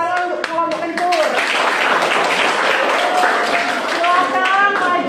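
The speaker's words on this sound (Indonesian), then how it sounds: "Tepuk tangan untuk kelompok kencur." Classroom applause for a student group during a teacher-training lesson, dense steady clapping from a crowd of pupils that fills the whole stretch, with voices and cheers mixed in.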